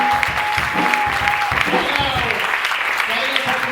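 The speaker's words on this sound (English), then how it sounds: "Let's give a round of applause for them." Audience applause for a troupe of comedians at a live comedy show, a steady dense patter of clapping with a voice carrying over it throughout.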